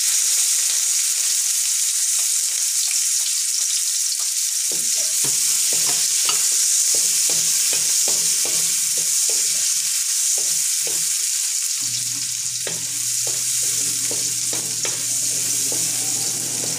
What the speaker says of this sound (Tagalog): Fry the garlic. Onion.